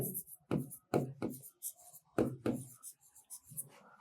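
Values are written out by hand in short scratchy bursts of strokes separated by brief pauses, close and fairly quiet.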